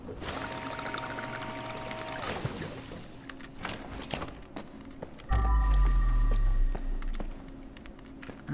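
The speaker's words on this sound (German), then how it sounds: "Da können wir nochmal eben Wasser auffüllen." Water pouring steadily in Crime Scene Cleaner while a bucket is refilled, a continuous splashing stream for about two seconds, followed by quieter clunks and a brief low rumble, with no talking.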